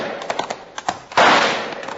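Rifle gunshots in an old radio drama, a few sharp cracks followed by a louder, echoing blast at a moonlit outdoor scene, with no talk during the shots.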